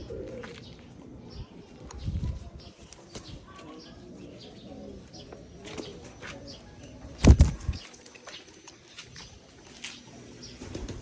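Pigeons coo softly outdoors during free flight recall training, with low murmuring calls, a few chirps and a brief burst of flapping wings, fairly close amid faint ambient noise and occasional voices.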